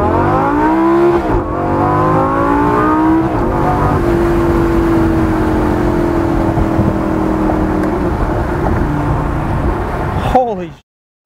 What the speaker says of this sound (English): Now as soon as they choose to open is when the exhaust truly screams.